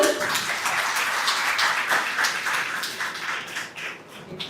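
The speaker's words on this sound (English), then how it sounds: "all female students particularly, just have a round of applause for all of you," Students applaud at a Women's Day event, a moderate patter of many hands clapping that thins and fades toward the end.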